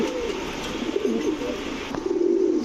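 Racer pigeons coo steadily at close range in a pigeon market, soft throaty rolling calls repeating over a constant background hum.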